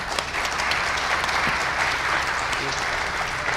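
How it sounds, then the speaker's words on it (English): Audience applause at the close of a management panel during a business and tourism career week, steady dense clapping that fills the room throughout, with faint voices mixed in. "let's give our panelists one more round of applause."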